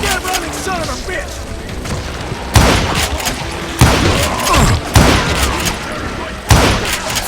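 Heavy revolver and rifle gunshots in the Western video game Call of Juarez: Gunslinger land as several sharp booming cracks at irregular intervals. They sound over a busy game soundscape with a voice talking.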